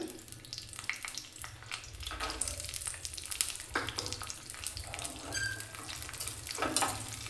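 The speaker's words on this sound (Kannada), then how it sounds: "ತುಪ್ಪ ಬಿಸಿಯಾದ ನಂತರ ಈ ಗೋಡಂಬಿನ ಫ್ರೈ ಮಾಡ್ಕೊಳ್ಳೋಣ" Cashews frying in hot ghee for bisi bele bath, a continuous soft sizzle with intermittent scraping and clicking of a spoon stirring the nuts in the pan.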